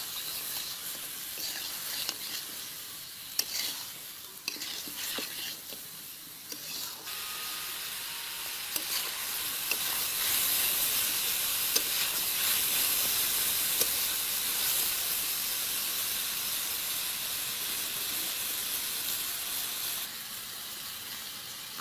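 Spices being stirred in a pan with salt, turmeric, chili, cumin and coriander powders for a coconut chicken curry, a steady steamy hiss and sizzle running throughout, growing slightly louder midway, with no talk.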